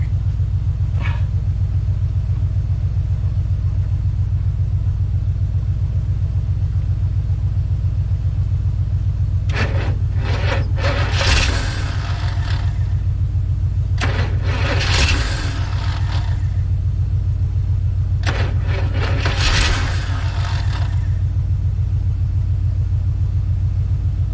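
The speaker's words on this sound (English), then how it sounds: "It might stay running for a couple seconds till the carburetor runs out of fuel." A carbureted engine in a 1962 Chevrolet C10 pickup truck running on a simulated choke, a loud, steady, close rumble that holds throughout, with a few brief scraping and clattering sounds over it.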